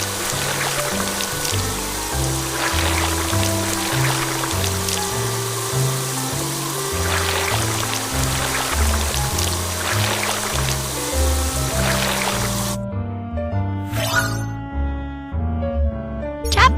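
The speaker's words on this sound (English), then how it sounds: "drag the water sprayer to rinse off the mud." Cartoon water sprayer rinsing mud off a bus in a children's car wash game, a steady rushing spray under a bouncy background music track, ending with a few plinking notes.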